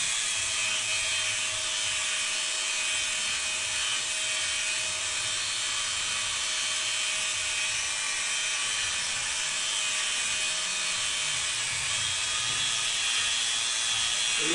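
A power sander buffs the finish on a black-painted tank, giving a steady high-pitched whine that runs unbroken at even loudness throughout, with no talking.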